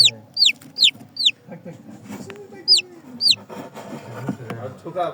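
Native chicks and hens cluck and peep nearby in short, repeated high calls, with softer rustling and low murmuring between them, inside a pigeon coop.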